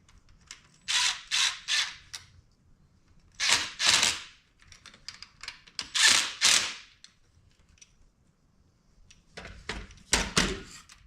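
A 12mm wrench is worked on a Kawasaki KX 65 dirt bike during a front brake line and suspension job, giving bursts of sharp metallic ratcheting clicks in short groups with pauses between them, close by.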